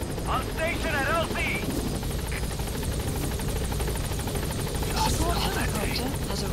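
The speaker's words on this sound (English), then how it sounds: "The helicopter has arrived." Helicopter arriving at a landing zone in Metal Gear Solid 5: The Phantom Pain, a steady rotor drone throughout with game voices talking over it.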